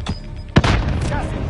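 A grenade explosion in Call of Duty: Warzone battle royale gameplay, one sharp loud boom at mid-clip followed by a rumbling tail over steady game noise.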